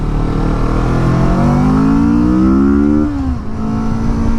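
A 2016 Kawasaki Vulcan S motorcycle accelerates on a highway, its engine drone climbing steadily in pitch through the gears over constant wind roar, then dipping briefly at a shift before pulling on.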